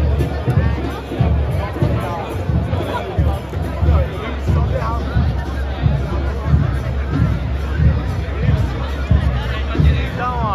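Football supporters of América MG crowd together outside the stadium before a Libertadores match against Barcelona, a dense, steady hubbub of many overlapping voices with occasional nearer shouts throughout.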